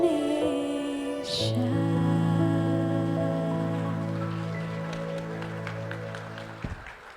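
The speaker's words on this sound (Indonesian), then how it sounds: "Hadirin boleh tepuk tangan sekali lagi untuk Shannon" An audience claps for a performer at a youth cultural camp appreciation event, steady dense applause under sustained sustained musical tones, easing off toward the end.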